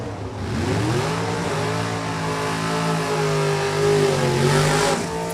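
A Pontiac Firebird drag race car launches at a drag strip. Its engine roars loud and close and rises steadily in pitch as it accelerates hard for several seconds, with no talk over it.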